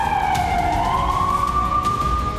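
An air raid alert siren wails over Tehran, a steady rising and sustained tone that carries loud and continuous through the open air with faint background noise beneath.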